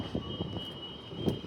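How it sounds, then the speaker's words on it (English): A Midland line train rolls into a new station with a steady low rumble, faint wheel and rail noise, and a thin high tone running throughout, all at moderate distance and without voices. "now we're gonna get the Midland train coming in"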